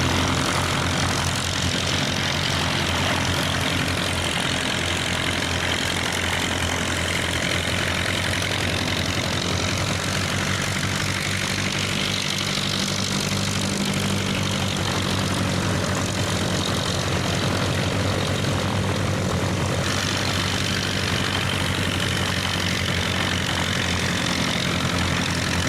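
A de Havilland DHC-1 Chipmunk propeller aircraft drones steadily, its engine and airscrew forming a loud, continuous roar that holds throughout without any talk.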